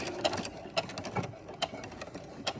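A sewing machine fitted with a walking foot runs wide top stitching in short bursts, with quick mechanical clicks and a whirring motor, close and moderately quiet.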